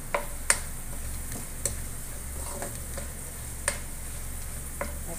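Whole spices being sautéed and stirred in a pan for mooti pulao, with a steady low sizzle and scattered light clinks of the spoon against the pan, close and moderately quiet, no talking.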